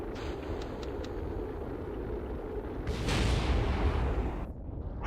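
Explosions in the Kerbal Space Program video game: a constant rumbling roar with faint clicks early on, swelling into a louder, deeper blast about halfway through before cutting off abruptly near the end, with no speech.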